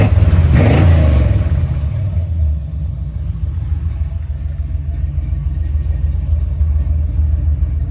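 A car engine fitted with a newly installed exhaust starts up with a loud rev, then settles into a steady, deep, rumbling idle close by, running continuously throughout.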